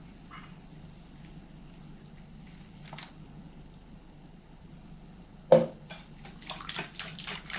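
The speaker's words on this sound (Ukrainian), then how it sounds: "Тепер додаю 1 літр молока." One litre of milk poured into a pot holding a pumpkin and egg mixture for crepe batter; after a quiet stretch, a close liquid splash starts and continues as a running pour near the end.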